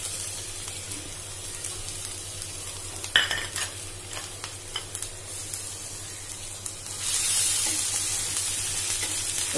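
Ginger paste frying in a pan while making chilli paneer, a steady close sizzle with stirring scrapes and a brief clatter near the middle, the frying growing louder toward the end, no talk.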